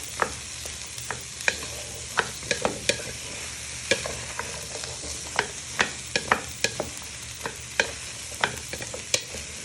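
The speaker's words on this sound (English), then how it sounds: "you just want to give these a little toss for a minute or 2" Parsnips being tossed and stirred in a hot frying pan, steady sizzle underneath with frequent sharp clinks and scrapes of the utensil against the pan, close and fairly loud, no voices.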